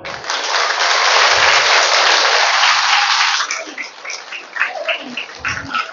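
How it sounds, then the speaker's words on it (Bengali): A workshop audience breaks into loud, dense hand clapping that holds for about three seconds, then thins out into scattered individual claps near the end. "জোরে হাততালি দাও।"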